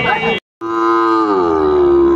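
Sahiwal bull at a busy cattle market lowing loudly and close, one short call, a brief break, then a long, sustained moo that slowly falls in pitch, with no talk.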